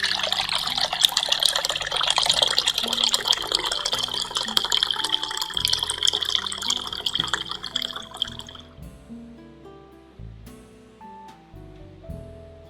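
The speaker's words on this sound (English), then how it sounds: "Pour the liquid through a strainer into a Pyrex glass or enamel container and set aside." Herbal decoction of Chinese medicinal herbs is poured from a stovetop pot through a strainer into a Pyrex glass or enamel container, a steady splashing stream that thins into scattered drips and trickles near the end.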